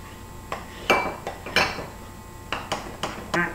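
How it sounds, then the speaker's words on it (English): A spoon stirring Malt-O-Meal batter loosened with half and half in a bowl, heard as a series of close, distinct clinks and scrapes against the bowl at an uneven rhythm. "But you're going to stir it until it loosens up a little bit."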